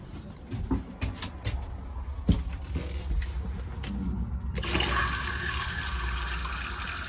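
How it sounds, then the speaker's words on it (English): Cassette toilet in a camper van flushing, pumped flush fluid rushing in a steady, fairly loud hiss that swells after a few seconds of clicks and low pump hum, with no talk over it. "there's a flush."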